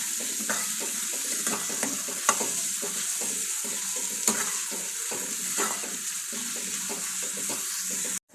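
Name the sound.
stirring onions frying in a pan on low heat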